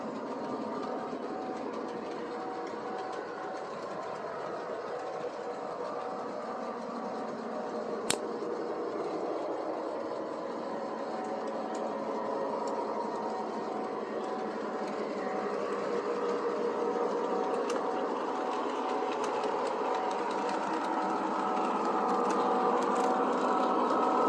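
A model train rolls steadily along its track for the whole stretch, a continuous rattling clatter with a faint engine hum that grows slightly louder toward the end, and a single sharp click partway through.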